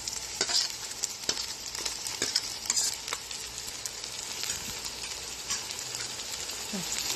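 Yogurt mixed with ginger-garlic paste, stirred and frying in a pan for chicken biryani: a bright, steady sizzle with sharp scraping clicks of the spoon recurring, close up and with no talking.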